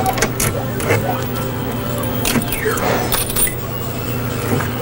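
Keys jangling and clinking against the locks of an arcade cabinet, several bright metallic rattles in close succession, near and fairly loud over a steady low hum from the machine.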